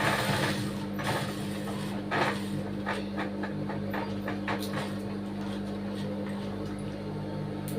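A sewing machine hums and clatters steadily up close, stitching the back neck of a blouse, with a low continuous motor drone and rapid mechanical ticking that runs throughout.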